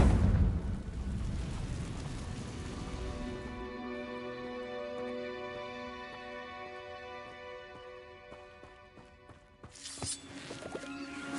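A Confringo spell explosion in Hogwarts Legacy, a loud blast at the start that rings out into a long, fading tonal tail, followed by a second sharp burst near the end.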